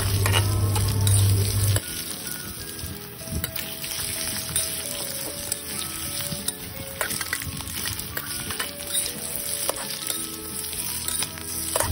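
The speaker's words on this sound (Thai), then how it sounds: "ผัดไปเรื่อยๆค่ะ" White shrimp stir-fried in a hot pan, 400 grams, steady sizzling with frequent scraping and clinking of a utensil against the pan, continuous and close with no talk.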